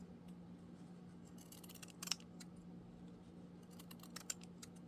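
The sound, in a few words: scissors trimming excess paper around a Halloween tag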